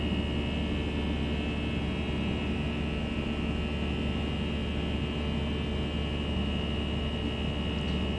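Steady, unbroken roar of FSlabs A320 jet engines at climb thrust in a flight simulator, with a constant low hum and hiss holding level throughout, no voices.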